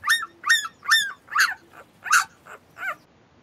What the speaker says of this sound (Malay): Itu adalah bunyi anak anjing, puppy, 小狗.